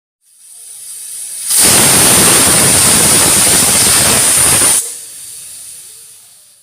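A pressure cooker on a stove cooking vegetables for sambar lets out one loud whistle, a sustained sharp hiss of escaping steam lasting about three seconds, rising abruptly and cutting off, with quieter hiss before and after.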